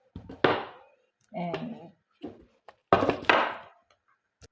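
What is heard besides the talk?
chopping an onion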